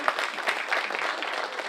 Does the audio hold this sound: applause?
yes